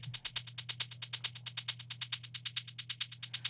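A rapid train of bright, evenly spaced pulses from a phaser-like trance synth sweeps over a steady low hum, giving a fast rhythmic phasing, whooshing texture.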